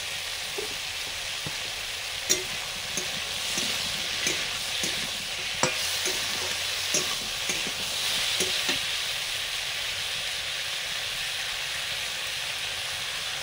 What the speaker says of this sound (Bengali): আলুগুলো ভেজে নেওয়ার পরে ঝিঙে দিয়ে দিলাম